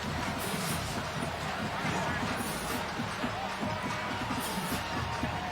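Sellout stadium crowd at a snowy 2019 Wisconsin at Minnesota college football game, a broad continuous roar with swelling cheers, heard under a commentator's voice.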